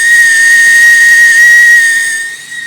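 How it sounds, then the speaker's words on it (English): An IKEA VATTENTÄT kettle whistles loudly with one steady, piercing high tone over a soft steam hiss, wavering slightly before easing off near the end. "It's whistling a lot better than before."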